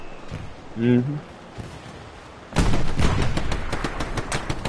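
A BAR automatic rifle in Hell Let Loose fires long, loud, sustained automatic bursts in its second half. A voice talks briefly before the shooting starts.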